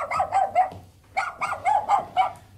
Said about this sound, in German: Das sind ihre Hunde.